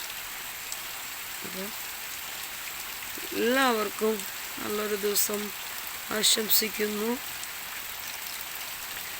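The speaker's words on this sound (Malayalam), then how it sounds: "നമ്മുടെ നാട്ടിൽ ഇപ്പോൾ മഴയാണ്" Steady rain falling outdoors in a Kerala village during the monsoon onset, a constant close hiss of drops on surfaces that continues under someone speaking.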